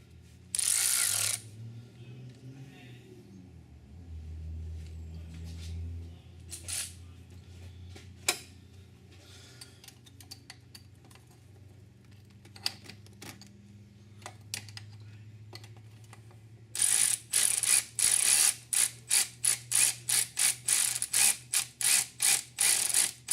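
A ratchet tightening water pump bolts on a Volvo B230 engine gives a fast run of sharp, even clicks near the end, after scattered quieter clicks and clunks, close and with no talking.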